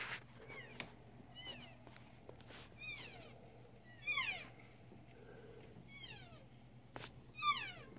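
Elk in December give repeated high, sliding whistle-like squeals and chirps, faint and distant over a low steady hum outdoors, coming in scattered bursts.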